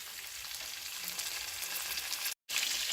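Beef liver sizzles steadily in a hot pan, a constant loud hiss and crackle with one abrupt split-second dropout near the end.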